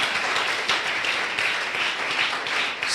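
A church congregation applauding at a benediction service, many hands clapping together in a steady, dense burst of mixed claps across the whole moment, with no speech over it.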